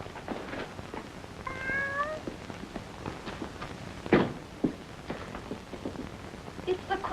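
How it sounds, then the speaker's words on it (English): A cat gives a single clear meow, close by, amid soft patter like rain, a few light footsteps and a sharper knock or thud in an indoor scene. "It's the Quentin cat."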